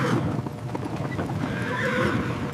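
An Arabian horse neighs loudly and close while hooves clip-clop in a steady busy rhythm underneath, with no talk.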